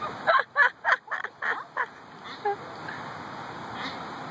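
A duck at a zoo gives a quick run of loud, close, nasal quacks, about six in a row, then a couple of softer ones trailing off into quiet background.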